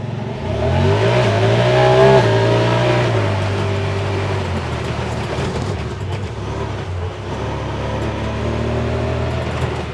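A Honda Pioneer 1000-5 side-by-side accelerates hard off-road at full power in high four-wheel drive, its engine roaring loudly with a rising, then steady drone heard from on board.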